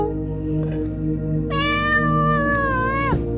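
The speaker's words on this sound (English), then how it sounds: "He's hungry. Look at him." A hungry kitten meows once, a long, clear, drawn-out cry rising over a steady low background hum, close to the listener.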